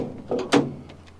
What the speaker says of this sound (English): If we open the door,